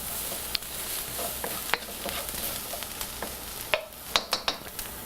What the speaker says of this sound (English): which is why I like to cook shrimp and many other dishes in a wok.